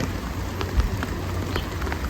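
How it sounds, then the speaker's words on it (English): Steady rain pours down, a dense constant hiss with scattered drops pattering close by. "Right about to get started and it starts pouring."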